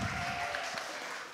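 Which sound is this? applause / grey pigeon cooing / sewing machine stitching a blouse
applause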